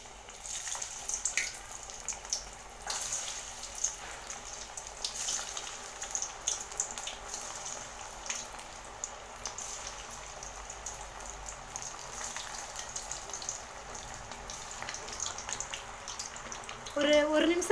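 Steady crackling sizzle of an onion snack frying in hot oil over a medium flame, continuous and moderately loud, with a few brief clinks near the end.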